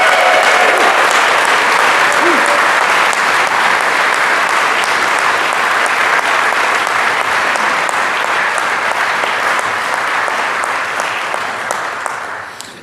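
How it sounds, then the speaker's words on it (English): Audience at the 2016 Canadian Motorsport Hall of Fame induction ceremony giving a long, sustained round of applause, dense and loud throughout before fading in the final moment. "Let's send them a great round of applause"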